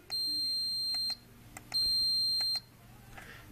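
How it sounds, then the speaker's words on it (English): An electronic sounder on a home automation prototype gives two long, steady high-pitched beeps, each about a second, separated by a brief gap and followed by faint clicks. "We've got a sounder."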